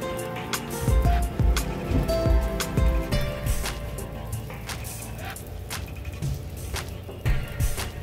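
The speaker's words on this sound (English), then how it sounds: "It's raining here." Steady rain pattering on a surface, with scattered heavier drops and drips landing irregularly throughout.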